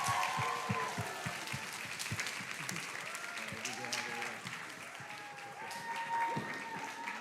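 An audience applauds actors brought back on stage at the SASA Expressions 2021 show: steady clapping and some cheering, with whistles and brief vocal tones rising and falling over the crowd throughout.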